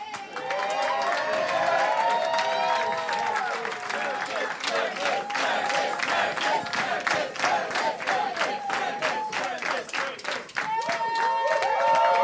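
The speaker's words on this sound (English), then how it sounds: "That's the best cheer I've ever gotten in my life." An audience at a barista championship event cheers and applauds as the host is welcomed on stage, with loud continuous clapping and whoops and a lively crowd roar throughout.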